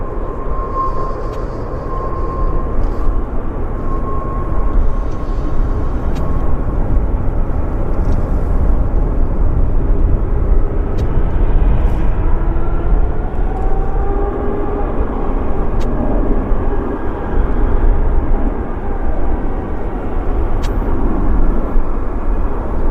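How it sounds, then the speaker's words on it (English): A Boeing 787 Dreamliner jet at Vancouver Airport, heard as a steady, loud, rumbling engine roar that holds evenly for over twenty seconds, with a faint whine drifting through it and brief clicks of outdoor noise. "We'll wait for the Dreamliner here."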